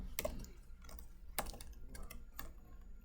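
Keys tapped on a computer keyboard while filling in a matrix in an equation editor: a few soft, close clicks in small bursts over a quiet room hum, no talking.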